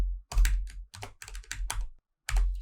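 Someone types on a computer keyboard at close range, the key clicks arriving in quick clusters with brief pauses between them, loud and clear with no talking over them.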